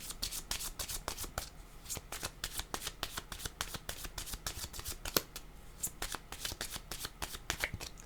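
A deck of cards is shuffled repeatedly up close, producing a quick, rhythmic series of crisp riffling flutters and snaps that runs steadily for several seconds with no talking.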